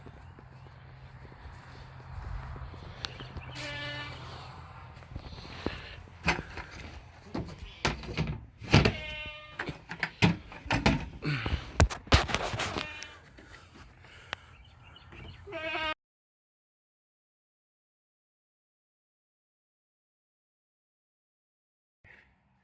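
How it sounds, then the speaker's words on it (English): Farm goats bleat in a busy cluster of short, nasal calls, close and overlapping, with hoof clatter and a person talking in between, then the sound cuts to near silence. "the goats are ready to eat too"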